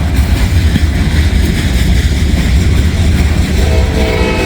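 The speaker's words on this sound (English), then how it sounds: "There's an NS train coming" A Norfolk Southern freight train approaches in rainy weather in Hamilton, a loud steady low rumble of rolling cars and engine with constant broadband noise throughout, no voices.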